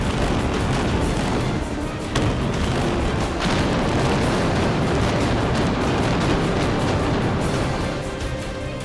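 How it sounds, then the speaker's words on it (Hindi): Controlled demolition of the Hudson department store building in downtown Detroit in 1998: a loud rolling series of blasts and booms merging into a sustained rumble of collapse and debris. "जब हडसन डिपार्टमेंट स्टोर की बुलंद इमारत को नियंत्रित धमाके से गिराया गया"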